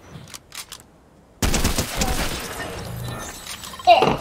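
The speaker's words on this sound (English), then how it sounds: "Oh, I'm getting shot at." Fortnite gunfire erupts suddenly after a quiet stretch, a loud sustained burst of shots with a sharp crack near the end.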